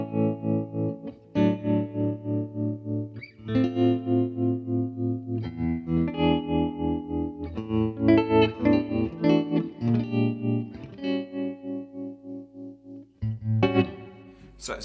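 Electric guitar run through an Ibanez Tremolo Mini pedal, chords and single notes pulsing in a steady, lush rhythmic volume throb, loud and alone throughout with brief pauses between phrases.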